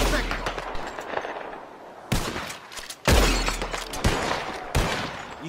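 Video game gunfire in a bottle-shooting sharpshooter contest, with loud, close shots and glass shattering that burst out in several sharp hits over a continuous noisy bed.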